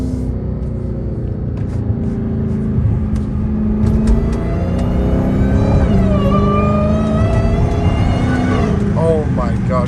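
An 800hp Dodge Hellcat Redeye with a new intake drones loudly from inside the cabin on a night drive, a heavy steady rumble and whir that swells slightly as it accelerates, while people talk over it.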